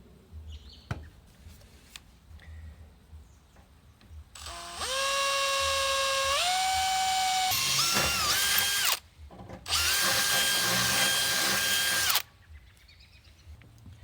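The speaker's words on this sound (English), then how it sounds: "I drilled this just a little bit small, not for any specific reason other than that's the bit I had out." Power drill boring into a folding sawhorse, two sustained whining bursts with rising pitch, the first about four seconds long, a brief pause, then a second shorter run before stopping.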